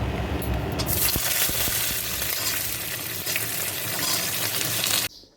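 Raw young pumpkin frying in a hot pan gives a steady, close sizzle with faint crackles and stirring scrapes, holding level throughout before cutting off abruptly near the end.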